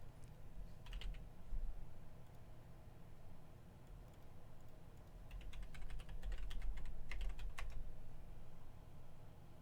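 Quick computer keyboard typing in bursts of key clicks, fairly faint over a steady low room hum with no talk.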